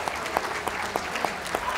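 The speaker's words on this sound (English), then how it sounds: "A round of applause to those leaving the ring" Spectators applaud hound group exhibitors leaving the ring at the Bath Championship Dog Show, with light, scattered clapping that settles into a loose rhythm of distinct claps.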